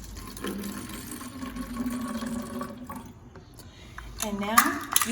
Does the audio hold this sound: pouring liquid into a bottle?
yes